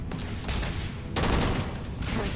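Dense, continuous gunfire in the Starfield video game fills a short stretch, loud and close, with overlapping shots that swell into a heavier volley partway through.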